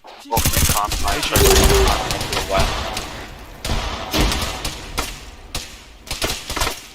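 Close, loud thuds and bursts of rapid gunfire from combat in the Roblox Halo video game, including a grenade blast, continuing in irregular volleys for several seconds while a voice talks over the action.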